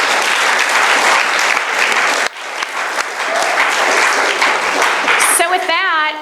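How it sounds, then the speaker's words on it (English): Audience applause at a youth challenge event at a summer camp, dense sustained clapping from a large crowd filling the room for several seconds, loud and close, fading slightly at the very end. "while you're clapping, can you please clap for the parents of these kids?"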